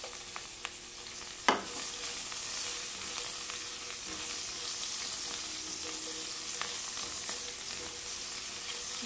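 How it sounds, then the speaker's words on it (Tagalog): Garlic fries in a pan with a steady, close sizzle running throughout, broken by one sharp clatter early on and a few faint utensil clicks. "Then isunod natin yung ating garlic."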